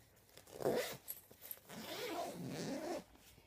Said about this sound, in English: It's got 2 zips.